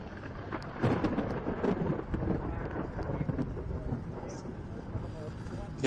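Deep thunder from an approaching storm rolls low and continuous at an outdoor supermoto race, a steady rumble swelling early and then holding at a moderate distance.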